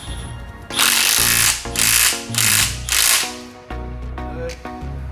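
A Snap-on CT9010 cordless ratchet tightens a nut on a motor mount, firing in four loud whirring bursts with short pauses between them and then a few brief clicks, close up with no talk.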